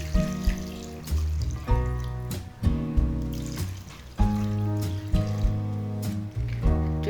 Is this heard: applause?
no